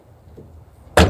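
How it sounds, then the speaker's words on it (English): Hatch door of a Toyota Echo swung shut with a single loud, close slam after a moment of quiet. "Close the door."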